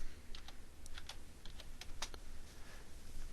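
A PIN is typed on a computer keyboard in a clinical discharge routine, a quick run of about a dozen crisp, close key presses at an uneven pace with no talk.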